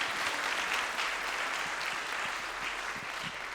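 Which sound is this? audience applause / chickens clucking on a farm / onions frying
audience applause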